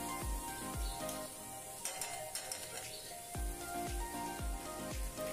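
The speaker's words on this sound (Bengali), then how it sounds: "এখন মটরগুলি যে ধুয়েছিলাম এগুলি দিয়ে দিলাম মশলার মধ্যে। এখানে নাড়াচাড়া করব।" Washed peas are tipped into hot sizzling masala and stirred, with a steady close-up frying hiss and rhythmic scraping of a spoon or spatula against the pan.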